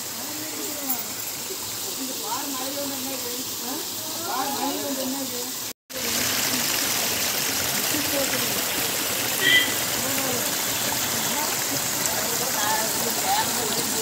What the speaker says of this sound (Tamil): கையில் மழை வந்துருச்சு, தெரியுதுங்களா? மழை பெய்யுது.